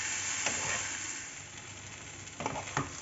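Dal, rice and vegetables frying in ghee for khichdi give a steady, close sizzle, with a few soft stirring scrapes near the start and end and no talking.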